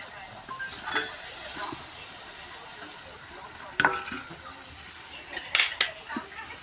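Fish pieces go into a pan of fried masala in a home kitchen, followed by scattered metal clinks of a spoon against the pan and soft stirring, with a louder cluster of scraping clatter near the end.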